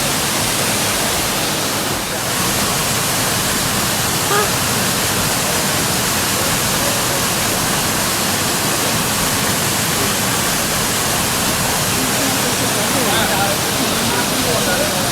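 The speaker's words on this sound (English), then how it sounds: "Oh, y'all see this waterfall?" The Rio Seco waterfall in Trinidad gives a steady, loud broadband rush of falling water that fills the whole stretch without a break.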